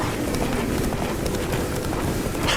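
Roach, the horse in The Witcher 3: Wild Hunt, gallops with a fast, steady run of hoofbeats under a dense wash of in-game ambience, loud and continuous throughout.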